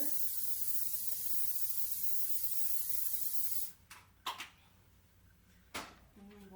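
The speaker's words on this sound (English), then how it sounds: "let's go ahead and spray our skillet over here" A steady hiss of aerosol cooking spray on a skillet for several seconds, then a few soft knocks and clatters of the pan being handled nearby.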